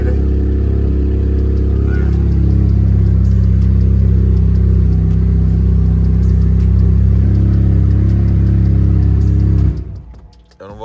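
A car engine, still a little cold, revs loudly and steadily up close for about ten seconds, then drops away abruptly near the end.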